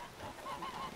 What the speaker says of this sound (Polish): Och, gęś pogonił.